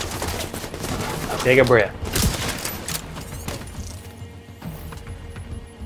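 Sharp gunshots ring out in The Division 2 during an Outcast stronghold fight, a few quick cracks clustered near the start and a loud single report after, with a player speaking briefly amid the shooting.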